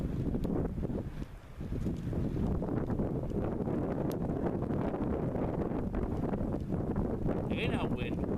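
Steady wind gusts rush and buffet across a desert campsite at night, a constant roar with some rustling and only a brief lull.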